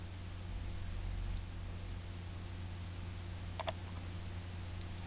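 Sharp computer mouse clicks while drawing L-type stairs in AutoCAD 2015, a single click followed later by a quick cluster of three or four clicks over faint steady hum.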